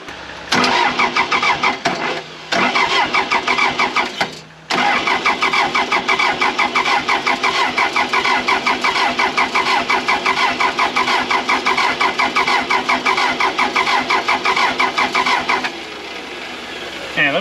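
A Case 450B dozer left abandoned for 15 years cranks on its starter and catches, its engine running loud and steady with a rhythmic clatter after a few short bursts and brief gaps.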